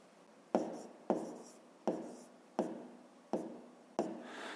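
Numbers are written by hand in a math exercise, producing six sharp, evenly spaced taps of pen on paper, each followed by a short scratchy stroke, close and fairly quiet.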